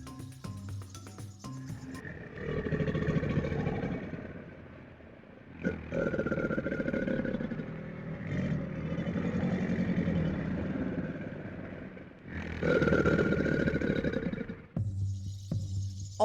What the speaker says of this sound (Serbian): A ovako zvuči krokodil.